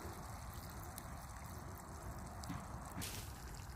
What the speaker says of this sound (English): Just need to drain off that pasta and add it to the mix.